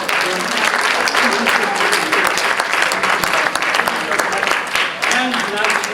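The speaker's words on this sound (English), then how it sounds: "Let's give them a good round of applause for coming out." Dense, steady audience applause at a magic and mentalism show, honoring the volunteers who came up on stage, with voices and cheers mixed into the clapping throughout.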